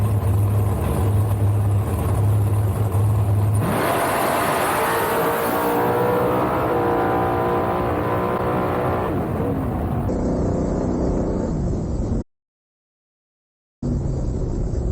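A drag racing car makes a loud pass down the strip at the Southern Big Buck Nationals, its engine howling and rising in pitch, then fading out before cutting to brief silence and returning.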